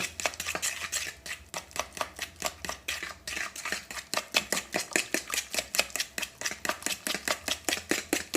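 Butter and baking soda being mixed with a fork in a bowl for banana bread cake, rapid regular clicking and scraping strokes, close and steady, with no talking.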